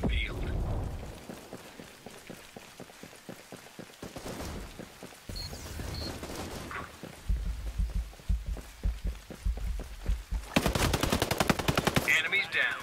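Rapid gunfire rattles through a Ghost Recon Breakpoint PvP firefight, with bursts of automatic fire, scattered single shots and a dense fusillade near the end, all close and loud under occasional voices.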